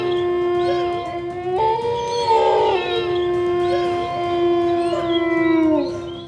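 A wolf, the wild dog-like animal, howls in long, sustained rising and falling cries that overlap with a second voice, loud and close throughout, with no talking.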